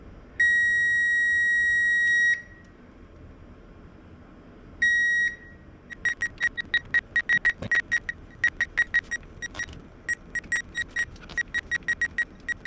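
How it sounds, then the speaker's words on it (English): Two long steady electronic beeps, then a quick irregular series of short beeps from a power probe circuit tester checking for positive power on a Nissan Titan, clear and close with no talking. "you can hear it beeps every time I get my positive power"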